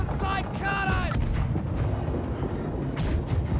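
Ship cannons fire in the naval battle game Blackwake, heavy booming blasts over a constant low rumble of battle, with a voice calling out at the start.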